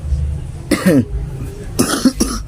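A couple of close, harsh coughs, the second a double burst, over a steady low hum and faint background noise.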